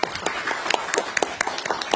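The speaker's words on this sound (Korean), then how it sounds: "박수 한번 부탁드립니다." An audience at a Korean government event with the prime minister applauds, with a thin, evenly spaced patter of distinct hand claps for about two seconds.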